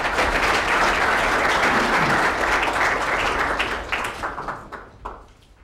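Sustained applause from a lecture audience welcoming a guest speaker on health care, steady and full for about four seconds before thinning out and fading.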